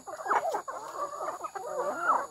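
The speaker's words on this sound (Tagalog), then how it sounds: "Yan, ang native na chicken" Native chickens are being fed and give off close, busy clucks and squawks in short bursts with brief pauses between them, fairly soft and with no talking.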